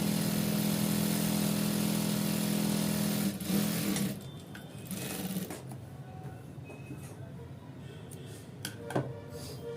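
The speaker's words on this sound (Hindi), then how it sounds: "यहाँ पे भी जो है धागा टूटता है तो आपका इस तरह से टूटेगा और लगा देंगे डबल सिलाई।" A sewing machine runs continuously, loud and close, double stitching the seam of ankle-length stretch pants for about four seconds, then stops, leaving quieter fabric handling and faint clicks with no talking.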